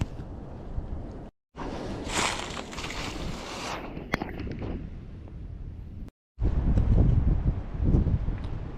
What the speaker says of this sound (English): So I'm gonna jump on my four-wheeler and just run down here real quick and check this watering hole.